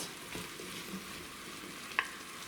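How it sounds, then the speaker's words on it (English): Beef frying in a pan with potato and carrot for a beef and macaroni soup, a steady soft sizzle with a light stir or clink near the end, fairly quiet and without speech. "to fry here the beef with the potato and carrot"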